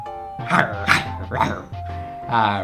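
A dog barks several times in the video game Bayonetta, a run of short close yaps and woofs with spoken voice mixed in.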